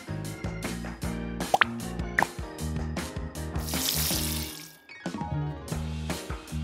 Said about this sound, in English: Bring the watering can to the flower pot.